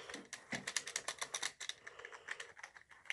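Keys on a Havit gaming keyboard, a non-mechanical membrane-style board, are pressed in a quick, irregular burst of close, soft clacks with no voices.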